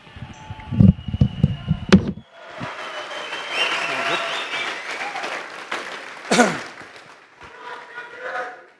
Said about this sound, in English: Make some noise for No Limits, Devon Larratt